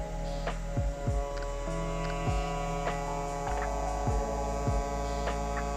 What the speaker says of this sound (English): we will see the motor. Now it is turning the fastest.